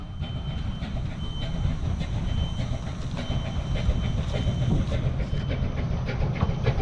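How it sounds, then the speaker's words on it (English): A train hauled by a locomotive more than 100 years old rolls through woods near Ventspils, Latvia, with a steady rumbling clatter of wheels on rails and faint high squeals, fairly close and continuous. "Over 100 years old is that locomotive."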